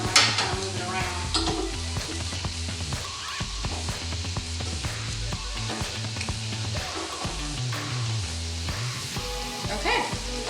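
Bacon for classic seasoned Southern greens sizzles and crackles steadily in a pan, with occasional stirring and utensil clatter, all under background music.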